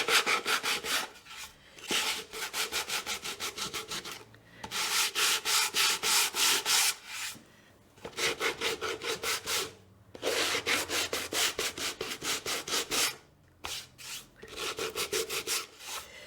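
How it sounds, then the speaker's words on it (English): Hand sanding a wooden centerpiece box with steady back-and-forth scratchy strokes in repeated bursts, with brief pauses between sets, close and clear with no talking. "now we're going to sand it"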